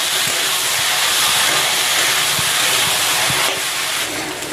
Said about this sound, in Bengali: মটরটা দিয়ে অল্প অল্প সময় ভাজবো।